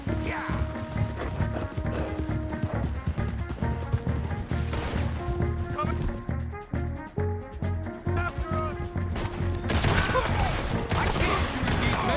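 Gunfire from Red Dead Redemption 2 during a bridge explosion mission, with repeated sharp shots over galloping horse hooves, music and shouting voices throughout.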